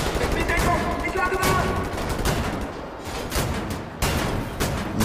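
Shotgun and other gunfire in the first-person shooter Wolfenstein: The New Order, a dense run of loud, close blasts and crackling impacts with a brief lull before renewed shots, playing under game sound.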